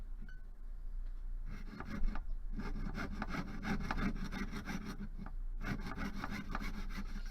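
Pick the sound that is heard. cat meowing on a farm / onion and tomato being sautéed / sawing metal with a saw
sawing metal with a saw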